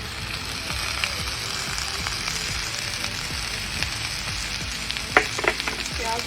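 Onion sizzling and frying steadily in a pan with hot oil, a dense continuous crackle broken by a few louder pops and stirring clinks near the end, close and moderately loud, no voices.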